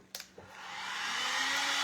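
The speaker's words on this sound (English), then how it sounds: "Let's dry this real quick and then we'll do another one." A hair dryer blows on wet white paint coating a dollar-store snowglobe snowman, starting after a couple of short clicks and rising to a steady, loud, broadband whoosh that holds for the rest of the moment.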